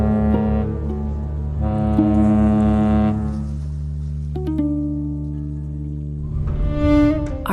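A steamship's foghorn at sea sounds in long, loud, steady harmonic blasts with short pauses between them, then a rising, rougher tone near the end, with no voices.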